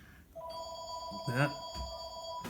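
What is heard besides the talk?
phone ringing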